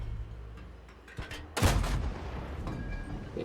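The tank gun of the Turán III prototipus fires in World of Tanks with one loud, booming blast that rolls into a long decaying rumble over a steady low engine hum.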